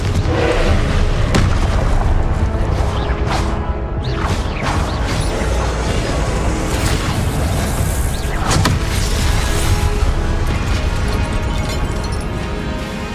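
Confringo fire-blast spells in Hogwarts Legacy combat, a loud, dense run of booming explosions and crashes that rolls on without a break, with no speech.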